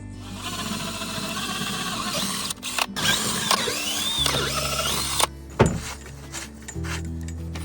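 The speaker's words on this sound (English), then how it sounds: "Time to drill it, clean it." A close drill whirs and grinds steadily for several seconds, pitch shifting as it bites, then cuts off, leaving quieter handling clicks.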